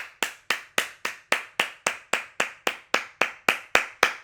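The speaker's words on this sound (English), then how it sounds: "Clap it up for young Barry Gordy." Hands clap sharply in a steady, even rhythm, about sixteen crisp claps in a row, close and alone with no voices.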